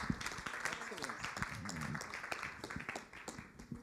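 Audience applause at a city council meeting, scattered clapping from a modest crowd with voices talking over it, fairly faint and tapering off toward the end.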